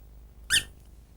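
A single short, sharp squeak from a squeaky joke toy, a practical-joke gag, sounds once, close and clear, against an otherwise quiet background.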